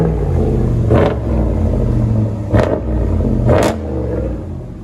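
A RAM 1500 pickup with a 5.7L HEMI V8 and a Flowmaster 40 Series exhaust, idling with a deep loud rumble and blipped three times in sharp throttle revs.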